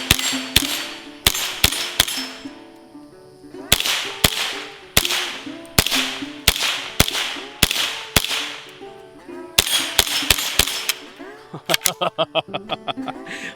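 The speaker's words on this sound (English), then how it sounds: "Now we're shooting some Winchester Super X's." A .22 rifle with a Volquartsen trigger firing Winchester Super X rounds outdoors: sharp, close cracks in irregular bursts with short pauses between, ending in a quicker run of lighter metallic clicks.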